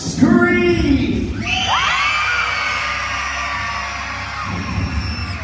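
A crowd of children screams loudly together at a circus, a sustained high-pitched roar that swells and fades after a few seconds.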